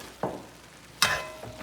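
Saltfish and celery fry in a hot pan, three quick sizzling stir bursts rising over a low steady hiss, close and fairly quiet.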